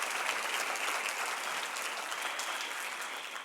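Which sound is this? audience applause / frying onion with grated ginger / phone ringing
audience applause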